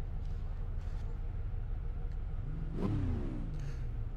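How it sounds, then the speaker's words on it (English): Racing engines of 1960s touring cars in the Assetto Corsa video game hum in a steady rumble, then one car revs up in a sweeping rise and fall about two-thirds of the way through. "We'll wait to hear all the engine revs again."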